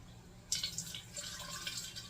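Sugar water pours from a bowl into a bee feeder, a soft, quiet trickle and splash beginning after a brief pause and running steadily to the end.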